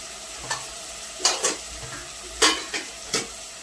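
A spoon scrapes and knocks against a pan as turmeric, salt and coriander powder fry in oil, with a few distinct clanks over a soft background sizzle and no speech.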